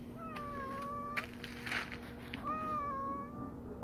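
A tabby cat gives two drawn-out, whiny meows close by, separated by a short pause, over a faint steady background hum.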